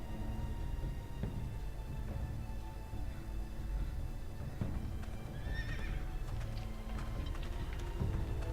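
A horse in the Game of Thrones Telltale video game, in the Ironrath setting, gives a clear whinny over steady clip-clop hooves and a continuous ambient bed.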